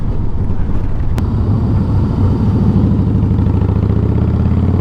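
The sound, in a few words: Harley-Davidson Heritage motorcycle engine running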